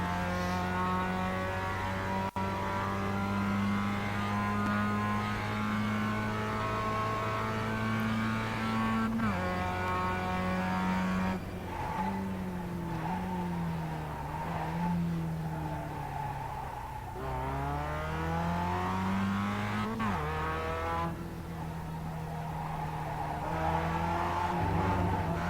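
A new Mazda MX-5 engine drones steadily under throttle while driving, its pitch dropping and climbing again with each gear shift over a long continuous run, heard from inside the car with no voices.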